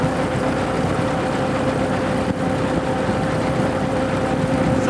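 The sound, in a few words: 1915 Hispano Suiza car's V8 aircraft engine just off idle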